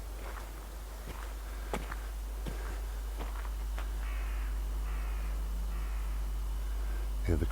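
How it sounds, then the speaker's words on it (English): Several crows caw in open countryside under a milky sky, scattered calls at moderate distance over steady outdoor background noise, with a few sharper knocks and a faint voice near the end. "Hear the crows."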